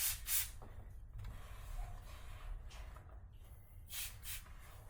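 Brake cleaner hisses from a spray can onto car door trim in a few short bursts, close and fairly quiet, over a low background rumble.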